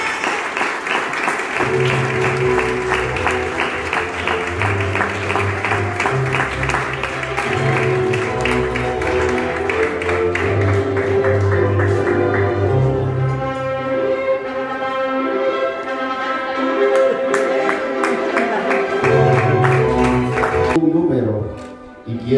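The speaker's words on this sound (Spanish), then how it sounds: "¡Fuerte el aplauso!" Wedding guests clap loudly and continuously at a reception as the newlyweds are welcomed, sustained applause over upbeat music that fades near the end.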